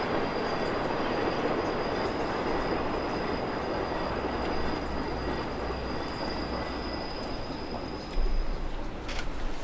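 Train running on the Albula railway line in Switzerland, a steady rolling rumble of wheels on track with a faint high squeal, continuous and close, louder bump near the end, no speech.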